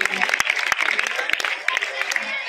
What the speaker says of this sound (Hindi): जोरदार तालियों से बच्ची का स्वागत करें।